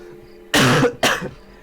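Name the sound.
cough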